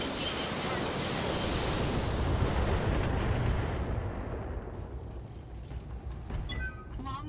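A long-range missile barrage fires in the BattleTech video game as a dense, loud roar of launches and rumbling impacts that slowly fades over several seconds, with faint tonal game sounds near the end.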